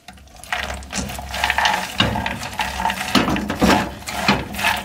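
Sesame seeds, melon seeds and raisins dry-roast in a pan, giving a close, uneven rattling and scraping as they are stirred, rising and falling in bursts without talk.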